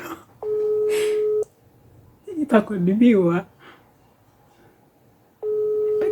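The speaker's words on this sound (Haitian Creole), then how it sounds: "si vous entendez, le téléphone a sonné" Telephone ringback tone: a steady electronic beep lasting about a second sounds twice, several seconds apart. A person talks briefly between the tones.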